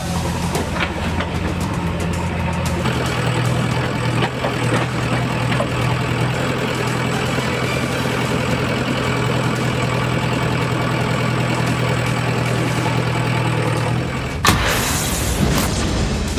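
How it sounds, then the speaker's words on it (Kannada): A tractor delivering cement pipes for roadwork idles steadily and loudly with a low, constant engine drone, then the sound cuts off near the end. "ಟ್ರ್ಯಾಕ್ಟರ್ ಮೂಲಕ ಸಿಮೆಂಟ್ ಪೈಪ್ಗಳನ್ನು ತರಲಾಯಿತು"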